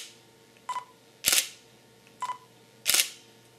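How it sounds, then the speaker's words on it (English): Two shutter releases from a Nikon D5300 DSLR in normal shutter mode, each a close, crisp double clack of mirror and shutter, spaced about a second and a half apart against a quiet background. "So if you make a shoot with a normal shutter,"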